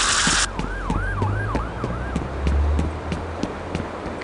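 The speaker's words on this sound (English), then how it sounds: "She also complained about all the sirens." A video game siren wails, sweeping up and down repeatedly over a low engine rumble, fairly close, with a brief burst of hiss at the start.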